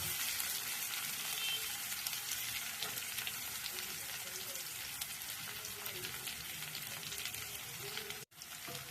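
Ragi upma with coriander sizzles steadily in a hot frying pan, a bright continuous hiss close up, with occasional stirring scrapes and a brief dip near the end.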